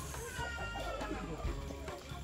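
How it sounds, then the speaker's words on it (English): Chickens cluck and murmur softly in the background in a village, with a steady low outdoor hum and faint voices nearby. "Chickens."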